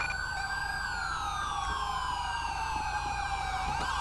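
An ambulance siren in Grand Theft Auto V wails in long rising and falling sweeps over a low vehicle rumble, loud and continuous throughout with no talk.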